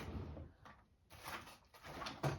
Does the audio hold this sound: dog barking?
no